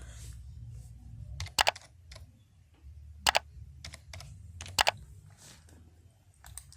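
Typing on a computer keyboard while entering text in Photoshop: short bursts of sharp, close key clicks separated by pauses, over a faint low background hum.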